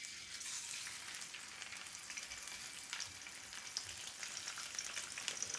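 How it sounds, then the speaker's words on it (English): A salmon fillet sears skin side down in a heated skillet, giving a steady, close hissing sizzle with crackling spatters that continues unbroken, with no talking over it. "we're going to go ahead and put this in our heated skillet here, skin side down"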